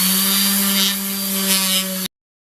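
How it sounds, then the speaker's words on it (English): Steady power sanding of a wooden 1910s pop gun, a continuous whirring hum with broadband abrasive hiss, loud and close, running for about two seconds before cutting off abruptly. "Now I just need to sand everything down really smooth and get rid of these burn marks."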